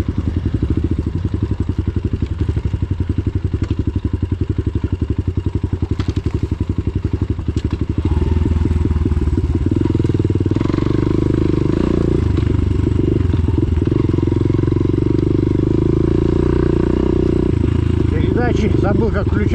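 An enduro motorcycle rides by on an outing near Toropets, its engine droning and revving steadily, nearby and fairly loud, while people talk over the sound.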